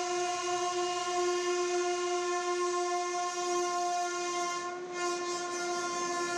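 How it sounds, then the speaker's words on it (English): An Oxygen Express train travelling from Lucknow to Varanasi sounds a long, steady, loud horn that holds one chord for several seconds, with a faint rumble of the train running underneath. "this train is traveling from Lucknow to Varanasi"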